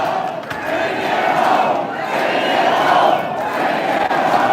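A large crowd at a political rally in Fredericton cheers and roars without a break, loud and dense throughout.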